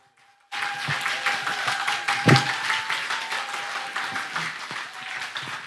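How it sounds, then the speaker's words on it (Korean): Applause from an audience at a church festival, a steady wash of clapping that starts abruptly and holds at moderate level for several seconds, with a faint sustained tone underneath. "다시 한번 힘찬 박수 좀 부탁드립니다"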